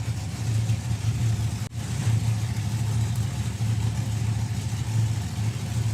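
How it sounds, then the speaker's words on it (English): Drag racing cars rolling up to the start line at a national finals event, a steady low engine rumble and idle running throughout with one brief dip partway through, and no voices. "Bringing the cars to the line now."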